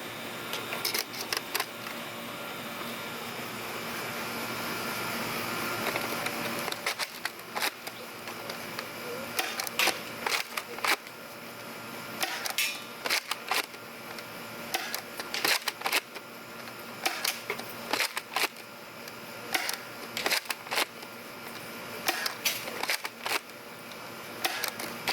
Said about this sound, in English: we're going to put it on the Chrono and see what it does with these short darts